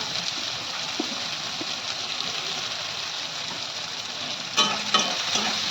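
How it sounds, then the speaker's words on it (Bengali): Chopped onion and green chili sizzle and fry in oil while being stirred, a close, steady hiss with a few scraping knocks near the end. "পেঁয়াজটা আমি লাল লাল করে ভাজি করবো।"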